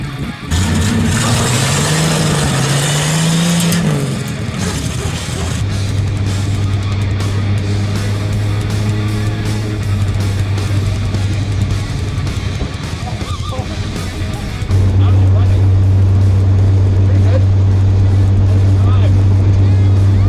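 A 1949 GMC truck engine runs with a low steady drone that cuts out briefly and resumes, while people talk over it throughout.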